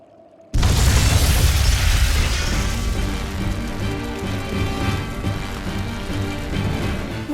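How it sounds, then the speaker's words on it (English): A sudden loud blast of flamestone, sulfur and oil in Tales of Berseria erupts after a brief quiet hum, then rumbles on as a dense, sustained roar of burning and crackling debris. "Tools of flamestone, sulfur, and oil. Those will explode."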